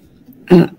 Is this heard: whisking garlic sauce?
no